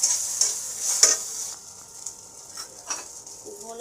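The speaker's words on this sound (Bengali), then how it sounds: "আদা বাটা অল্প করে দিলাম, এটাকে ভালো করে নাড়তে হবে।" Okra with a little ginger paste frying in a pan for a Bengali dal dish, a spoon scraping and stirring in several sharp strokes over a soft, steady sizzle.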